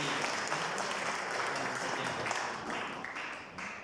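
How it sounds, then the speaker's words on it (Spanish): A church congregation at a Reformed Baptist conference bursts into dense, steady applause to welcome a pastor. The clapping is loud and sustained for the whole stretch and eases only slightly near the end. "Aplausos, pastor."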